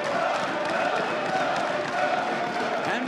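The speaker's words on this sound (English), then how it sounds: "And the crowd goes wild." A large crowd at a League of Legends esports event, the IEM Sao Paulo semifinal, roaring and cheering in a steady, dense wash of noise that carries on without a break.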